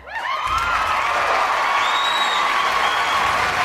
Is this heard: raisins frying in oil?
no